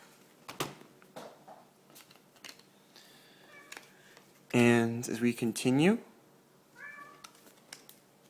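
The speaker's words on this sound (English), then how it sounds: "you will probably be hearing my cat in the background because he likes running and then meows at the door" A cat lets out a long, loud meow close by, followed by a shorter one, while a person speaks intermittently around it.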